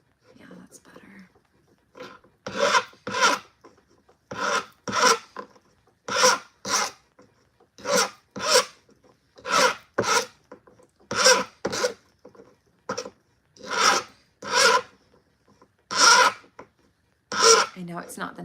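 A metal file rasps against the edge of a handmade jewelry piece in a steady run of about fifteen short, evenly spaced strokes, close and crisp, with only faint murmuring between them.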